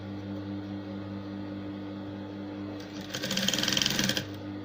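A sewing machine stitches a strip onto a circle neckline, a close steady rapid whir running about a second after a low motor hum.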